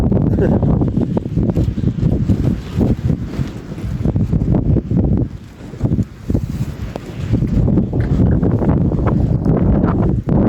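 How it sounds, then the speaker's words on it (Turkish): Gusty wind buffets the microphone in loud, uneven rumbling bursts, easing briefly midway before picking up again. "Ben buraya gelince rüzgar başlıyor arkadaş."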